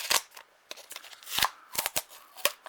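Stack of trading cards, basketball cards among them, handled out of a mail care package: a string of sharp, dry flicks and snaps at irregular intervals, close and fairly loud, with no talk.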